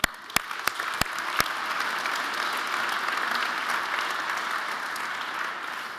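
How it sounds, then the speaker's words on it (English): A conference audience applauds the sponsors with a burst of sustained clapping that opens with a few sharp, distinct claps, then settles into a steady, dense roar of applause. "Hand of applause for all the sponsors."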